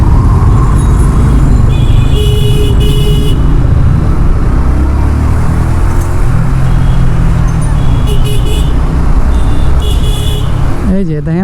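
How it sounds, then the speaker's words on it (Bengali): Vehicles honk repeatedly in congested road traffic, short bursts of horn tooting over a loud, constant engine and road rumble, with someone talking nearby throughout. "এই যে দেখেন অযথাই হর্ন দিয়েই যাইতেছে, অযথাই হর্ন দিয়েই যাইতেছে"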